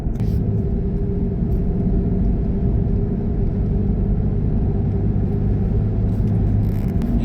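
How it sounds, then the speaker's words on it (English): Steady low engine and road rumble from inside a car on a country road, a constant droning hum filling the whole stretch with no voices. "Yeah, there's a car right behind me."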